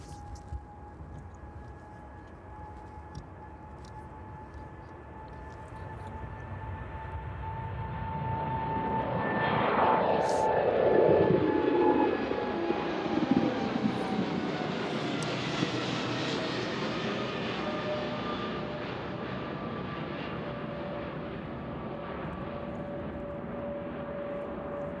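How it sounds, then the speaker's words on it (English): A Boeing 777 cargo jet departs East Midlands Airport on a chilly evening. The engine roar builds from a distant hum to a loud peak as it passes, then fades slowly into a long rumble. "So let's just pan around and catch the 777 as it makes its way out."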